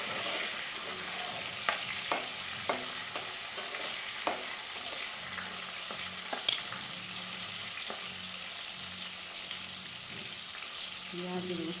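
Bay leaves, dried chilies, chopped tomato and green chilies fry in hot oil, a steady sizzle broken by several sharp clinks and scrapes of a spoon stirring in the pan, with no talk.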